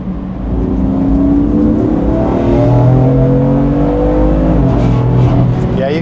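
BMW M4 engine revving and pulling hard under acceleration, heard from inside the car: a loud, sustained rising drone that holds high, dips briefly and climbs again, no talking.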